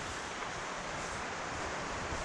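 Steady broadband surf at a Vancouver Island beach near Sombrio, an unbroken wash of waves lasting a couple of seconds, fairly faint and even, with some wind noise and no voices.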